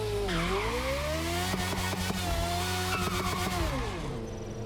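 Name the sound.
Ford Focus with V8 Formula 1 engine sound, The Crew Motorfest video game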